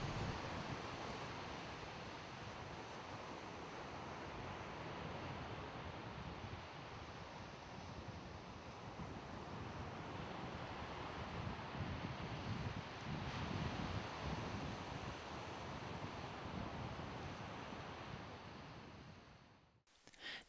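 Surf breaking on a beach makes a continuous broad wash that rolls on without pause, with wind noise buffeting the microphone throughout.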